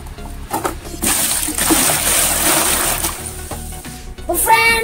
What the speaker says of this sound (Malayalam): അപ്പൊ നമുക്ക് വെള്ളം ഒഴിക്കാം.